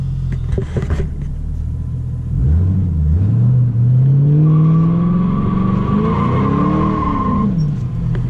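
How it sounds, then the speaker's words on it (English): A 2005 Ford Mustang GT V8 revs up into a burnout, the engine note climbing steadily while spinning tires squeal and hiss on pavement, loud and close, with a low rumble throughout. "we're gonna do a little bit of a burnout to warm up the tires"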